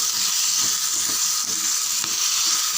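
Dried copra coconut pieces sauté in a pan for parotta salna, producing a loud, steady close sizzle with faint stirring bumps and no talking.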